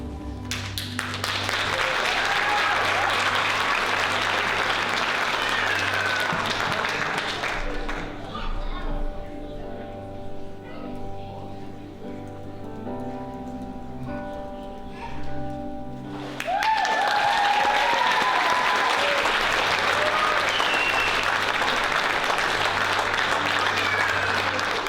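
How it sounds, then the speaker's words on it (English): A church congregation applauds loudly after an Easter Sunday baptism, sustained clapping that drops away midway under a quieter stretch of voices and music, then surges back just as strong. "Can we give Alan a round of applause?"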